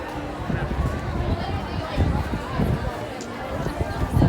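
Dense crowd of people waiting outside the Emporium at Walt Disney World during the 50th anniversary celebration, a steady babble of many voices with shuffling footsteps close around.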